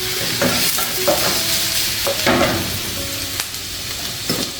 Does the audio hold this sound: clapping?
no